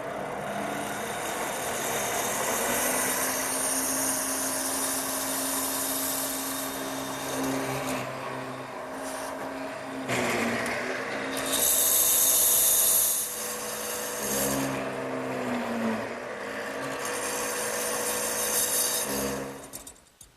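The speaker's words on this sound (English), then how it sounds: "I've also set the depth of the drill press so that I end up with about a 3/4 inch deep mortise" A drill press plunges repeatedly into a wooden table leg to cut a mortise, its motor whirring steadily while the bit grinds through wood in several separate plunges.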